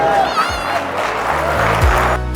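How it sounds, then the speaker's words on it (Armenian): Applause from a crowd at a 50th birthday party for a beloved aunt, with Yazidi relatives present. Dense, steady clapping that is fairly loud throughout, mixed with voices and some music. "դուք էլ ծափեր տվեք"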